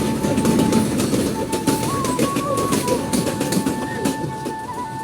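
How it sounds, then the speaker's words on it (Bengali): A small train rolls past at close range: steady rumble and rattle of wagons with faint clacking runs throughout, and a thin high tone sits above the noise. "আর এখান থেকে ট্রেন আসতেছে"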